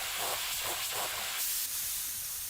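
Spray tool in the video game House Flipper 2 giving off a continuous airy hiss in short repeated pulses, faint but steady throughout with no voices.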